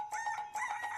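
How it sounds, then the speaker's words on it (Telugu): A rooster crows in a film scene, two strained, rising calls close by, each lasting about half a second with a brief gap between them, heard alone without talk. "రేయ్ కోడి కూస్తోంది,"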